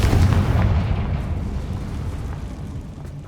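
A Confringo blasting spell explodes in Hogwarts Legacy, a loud booming burst up front that rumbles and slowly decays over a few seconds.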